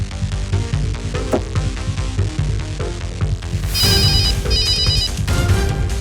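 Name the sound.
mobile phone ringing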